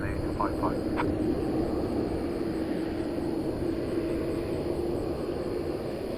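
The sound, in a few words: Korean Air jet airliner taking off from runway 18 left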